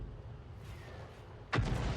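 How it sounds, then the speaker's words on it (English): A single heavy boom near the end marks an HE howitzer shell from the 105 leFH18B2 striking an enemy tank in World of Tanks, loud and abrupt after a quiet stretch of low background rumble. "That's a penetrating shot on the Skoda too."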